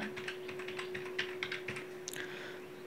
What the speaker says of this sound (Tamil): உங்களுடைய ஆதார் கார்டு நம்பரோ அது என்னவோ கரெக்டாக வந்து டைப் பண்ணிக்கோங்க.